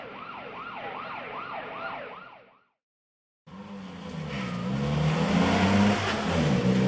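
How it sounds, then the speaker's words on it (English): A military ambulance siren wails in a rapid rising-and-falling cycle, cuts out briefly, then returns with a loud passing engine roar and a lower, slower siren sweep close by. "Military ambulance."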